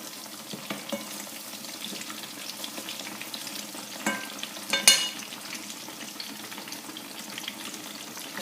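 Aubergine slices fry in oil and get flipped in the pan, a steady close crackle with occasional scrapes and a sharp clack of the turner near the end, with no talking.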